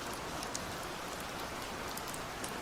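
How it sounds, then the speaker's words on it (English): Steady, dense rain from a storm in a video game, a continuous close hiss of falling water with faint scattered drops and no voices. "The rain transformed into a storm, and the water fully soaked our furs."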